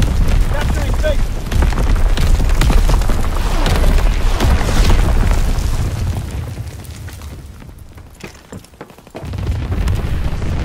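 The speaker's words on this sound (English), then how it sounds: "Incoming enemy artillery. Get to cover." Repeated artillery blasts in Call of Duty WWII roar in heavy, overlapping booms and rumbling bursts, loud and close, dipping briefly before another impact, with game voice announcements layered over the barrage.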